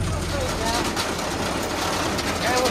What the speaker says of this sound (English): Dusty tractor.